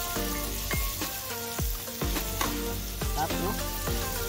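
Onion sizzling in hot butter in a pan, a dense continuous crackle broken by repeated clinks of a utensil stirring, fairly close with no talk.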